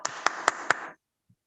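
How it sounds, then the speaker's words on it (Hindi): Four quick, evenly spaced hand claps ring out close and clear, greeting a speaker in an online Zoom meeting, then stop abruptly into silence. "जोरदार तालियों के साथ में निर्मल निराला सर का अभिवादन करें"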